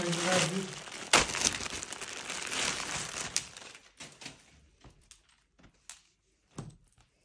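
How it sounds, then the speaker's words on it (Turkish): Delivery parcels being opened, with plastic packaging crinkling and tearing loudly up close for the first few seconds, then fading into sparse handling rustles and taps. "Kargoları açmaya karar verdik Elif ablayla. Şimdi açacağız."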